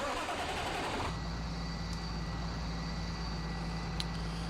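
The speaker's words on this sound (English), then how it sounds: "I know this particular tractor is loud" A tractor engine cranks briefly, then catches and settles into a loud, steady, low rumbling idle, heard up close.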